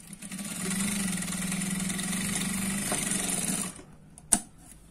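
A sewing machine runs steadily close by, stitching a Punjabi dress in one continuous whirring burst for about three and a half seconds, then stops, followed by a single sharp click.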